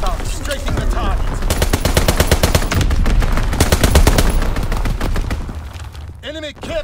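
A fighter plane strafes in Call of Duty WWII, loud rapid machine-gun bursts rattling in dense rhythmic volleys for several seconds, then tapering off, with faint game radio voices underneath.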